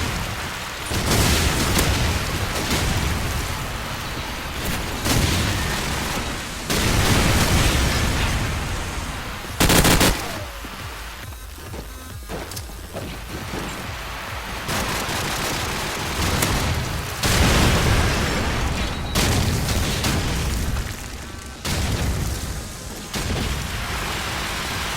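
Grenade explosions in Call of Duty 4 Promod on the Crash map, repeated booming blasts and bursts of gunfire spread across the stretch, with quieter gaps between impacts.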